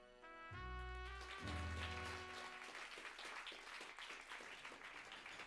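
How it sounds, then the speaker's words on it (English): In the video game Rose Guns Days, a crowd bursts into applause after a short musical sting at the end of a stage performance, the clapping continuing steadily and fairly loud. "the final performance of the Wandering Cats ended and a big applause rang out"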